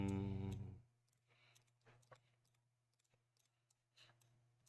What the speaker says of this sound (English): Baby's clicking buttons.